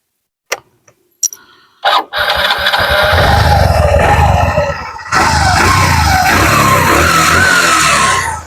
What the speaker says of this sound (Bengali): আমরা বাইকের স্টার্ট করে সাউন্ডটা দেখালাম